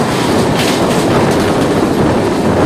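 Steady loud roar of the Howrah–Bhagalpur Vande Bharat Express passing close by, continuous broadband rumble with rhythmic clickety-clack of wheels on rails.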